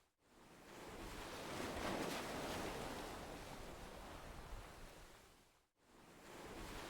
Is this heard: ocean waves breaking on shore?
yes